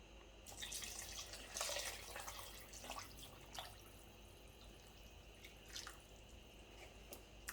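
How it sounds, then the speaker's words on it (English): Water poured into a pot for vegan cabbage soup, a soft splashing burst in the first two seconds, then quieter drips and trickles, fairly close and without talk. "I'm gonna fill this with water and pour it here to just about this line right here to fill"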